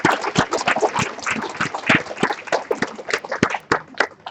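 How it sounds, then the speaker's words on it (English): An audience at a 2014 training event gives a big round of applause: dense, irregular clapping with whoops and cheers, close and lively for a few seconds, with no speech. "All right, big round of applause to all the diamonds."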